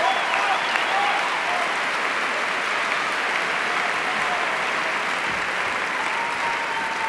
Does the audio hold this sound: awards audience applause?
yes